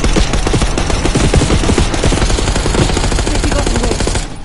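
Sustained automatic gunfire in the Black Ops 6 campaign during a street ambush on a limousine, loud and dense rapid bursts roaring continuously for about four seconds before cutting off abruptly.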